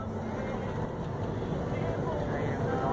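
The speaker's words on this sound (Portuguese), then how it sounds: "O trator saindo pela frente. Já carregadinho." A tractor pulls out loaded with freshly cut rice during harvest, its engine giving a steady, rumbling drone throughout, with wind buffeting the microphone.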